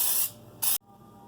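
Baking spray with flour mixed in is sprayed into a cake pan in two short hissing bursts, the second brief and abrupt, close and clear, followed by quiet.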